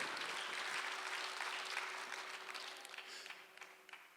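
A church congregation at Sunday worship claps together, a full burst of applause that gradually thins and fades toward the end.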